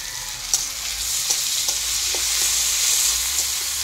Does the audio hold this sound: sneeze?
no